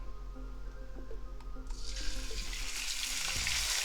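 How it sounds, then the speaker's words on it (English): Pork loin dropped into a hot pan to sear, quiet kitchen clatter giving way to a sudden loud, broad hiss of sizzling that holds steady for the rest, close by with no talking. "So we're just gonna sear it."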